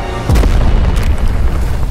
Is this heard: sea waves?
no